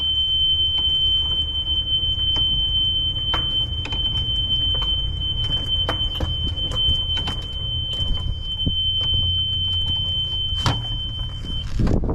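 A steady, continuous high-pitched electronic tone from a golf cart's reverse warning beeper runs for about eleven seconds under a low motor hum, with scattered clicks and knocks, close by and with no talk.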